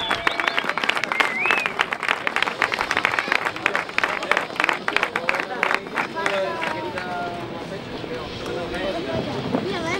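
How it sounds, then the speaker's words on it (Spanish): Crowd clapping at a surf contest award ceremony on a beach, a dense burst of applause that thins over the seconds while an announcer speaks over a loudspeaker and wind buffets the microphone. "Un aplauso, enhorabuena."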